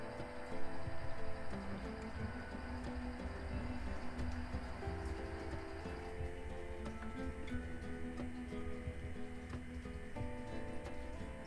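An HO scale model train runs on a layout with a steady, faint ticking clatter of wheels over track joints, continuous and quiet throughout.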